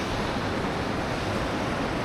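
Water from a waterfall pours down from above on a bamboo trek in Meghalaya, a steady, loud, full rushing roar with no break and no voices.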